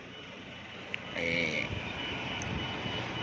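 A vehicle engine idles with a steady low hum, joined briefly by a higher whine partway through, continuous and fairly even in level.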